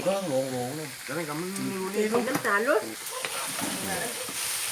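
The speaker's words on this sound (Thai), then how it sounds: "คั่วไปให้มันแห้งสักน้อยนะครับ" Chicken being stir-fried and dry-roasted in a pan sizzles steadily and fairly close throughout, while someone talks over it.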